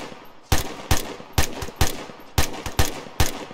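Machine gun fire in a military video game, short bursts of several loud, sharp shots repeating roughly every half second, close and dry with no talking.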